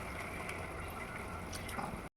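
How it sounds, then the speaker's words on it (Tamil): Strained tamarind water poured into a simmering pepper kuzhambu, a close, continuous liquid splash and trickle lasting about two seconds before stopping abruptly. "இந்த ஸ்டேஜில் புளி தண்ணி நம்ம சேர்த்துக்கலாம்."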